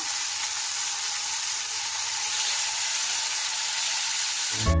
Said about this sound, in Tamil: சிக்கன் ஒன்றுனா போட்டு அப்படியே ஸ்லோவாக வச்சு பொறிச்சு எடுத்துக்கலாம்